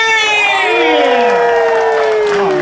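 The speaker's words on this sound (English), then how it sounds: "And the crowd goes crazy!" A crowd cheering sound effect added to a movie scene at Universal Studios plays loud and close, with whoops and rising shouted voices swelling over about two and a half seconds.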